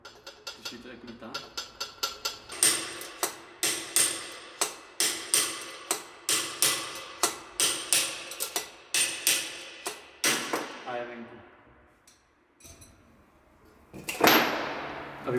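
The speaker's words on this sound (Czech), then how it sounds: "Se ta trubička už uvolnila, slyšíte, jak lítá?" A rapid series of metallic knocks and rattles from a loose tube inside a Kawasaki Z750 motorcycle wheel bearing, steady then thinning out, followed by a few scattered clanks and a final scraping rattle.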